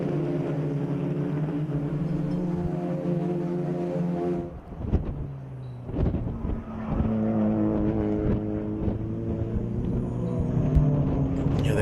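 Racing cars lapping a circuit at a National Extreme Festival round, a steady engine drone with harmonic whine that dips around a car passing, then builds again, loud and continuous.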